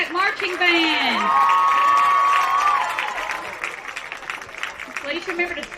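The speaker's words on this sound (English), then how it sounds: "One more round of applause for our Pride of the Wolfpack Marching Band." Crowd in the stands at a high school football game applauding and cheering for a marching band, a steady roar of claps and whoops that fades toward the end while a voice speaks over it.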